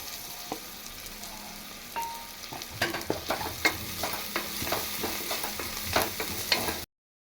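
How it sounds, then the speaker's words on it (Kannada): Green chillies frying in oil for egg biryani: a low sizzle at first, then busier crackling and repeated spoon-stirring clicks and scrapes in the pan, close and moderately quiet before an abrupt cut. "ಎಷ್ಟು ಹಸಿ ಸ್ಮೆಲ್ ಹೋಗೋವರೆಗೂ ಎಣ್ಣೆಲಿ ಚೆನ್ನಾಗಿ ಹುರ್ಕೊಬೇಕು"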